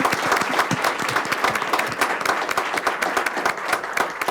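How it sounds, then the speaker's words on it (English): A school board meeting audience gives a loud, dense round of applause for a girl's Jingle dress dance, continuous clapping filling the room for several seconds. "Applause for Amaya and her grandmother and uncle."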